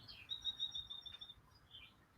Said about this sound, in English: I can hear the birds singing outside.